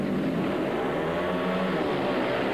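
Speedway motorcycles race a heat in a Polish league meeting between Unia Tarnów and Polonia in 1992, giving a steady, loud engine roar with no break, heard from a distance, without speech.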